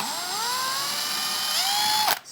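A drill bores a gentle pilot hole into plasterboard, giving a close, steady whine that dips and rises in pitch, then stops abruptly at the end.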